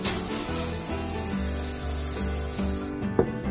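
Hot water streams steadily from a tap over an empty glass bottle while cutting bottles into candle holders, a continuous close hiss and splash with faint tonal ringing, ending in a brief knock near the end.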